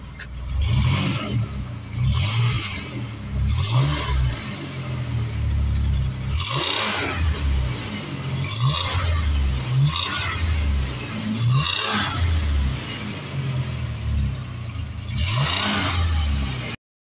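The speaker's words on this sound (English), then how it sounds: "The Dodge Ram 1500. Give me some gas." A 2001 Dodge Ram 1500 engine with its muffler deleted revs up in several repeated throttle blips, each rising and falling over a steady idle rumble, loud and close.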